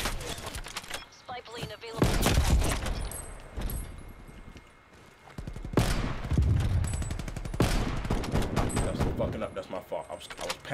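Rapid bursts of automatic gunfire in the Call of Duty Cold War game, loud close rattling volleys in several clusters with a player talking throughout.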